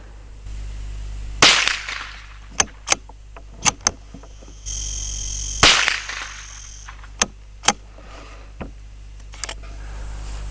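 A rifle fitted with a Schmidt & Bender Summit 2.5-10x40mm scope is fired while zeroing, giving two loud, sharp reports several seconds apart. Smaller crisp clicks and snaps come between them, with a faint steady hum underneath.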